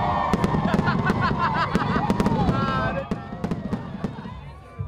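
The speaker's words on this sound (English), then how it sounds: "Fireworks exploded in the sky above 35th Street" Fireworks burst above a Chicago street during a celebration for Little League champions arriving at a ballpark, sending a rapid series of sharp crackling pops and bangs over a murmuring crowd, with a voice talking over it.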